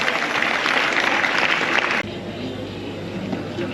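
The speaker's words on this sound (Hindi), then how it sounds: "एक बार पुनः जोरदार तालियां।" Audience applause at an award ceremony for students, dense sustained clapping filling the first two seconds, then cutting abruptly to a quieter room murmur.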